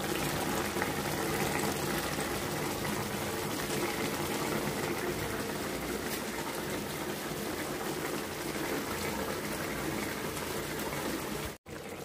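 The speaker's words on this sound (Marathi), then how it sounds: "एकदम भाजी छान शिजत आहे" Stuffed brinjal gravy curry simmering in a pan, a continuous close bubbling and hiss that stays even for the whole stretch, with no talking over it.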